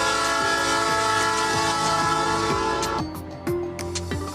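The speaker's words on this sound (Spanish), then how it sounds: "esta mañana se realizó la primera prueba o marcha en vacío de una locomotora y 6 vagones" A double-decker train, a locomotive hauling six carriages on a test run on the Lima to Chosica line, rumbles past loudly with sustained horn blasts and rhythmic rail clatter, easing off near the end.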